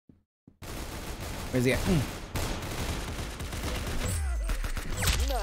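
Rapid bursts of gunfire in the Roblox video game crackle through a multiplayer match, with a clipped start, a player speaking briefly, and continuing shots.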